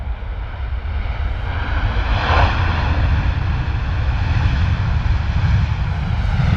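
Ryanair airliner making a heavy landing at London Stansted Airport, a loud steady jet roar with a swelling rush in the middle, alone without talk.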